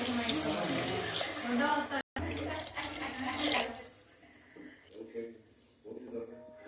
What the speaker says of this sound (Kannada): ಇವಾಗ ನಾನು ನೀರು ಹಾಕೊಳ್ತಾ ಇದ್ದೀನಿ.